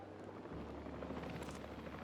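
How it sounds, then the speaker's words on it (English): Helicopter in Jurassic World Evolution 3 returning, a steady rumbling rotor drone that swells slightly partway through, moderately loud with no talk over it. "Stand by for the returning helicopter."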